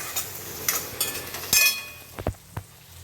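Onions frying in oil in a pan for poha, a soft sizzle under a few scraping stirs and clinks of a spoon against the pan, close and moderately loud, with no talking.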